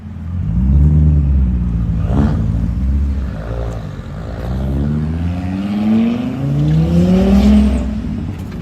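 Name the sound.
Volvo S60R engine and exhaust sound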